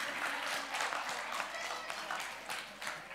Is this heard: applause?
yes